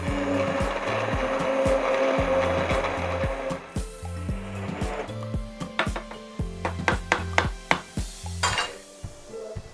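Immersion blender pureeing a pot of cream of mushroom soup whirs loudly for about four seconds. It then stops, and a run of sharp knocks and clatters follows from the blender against the pot.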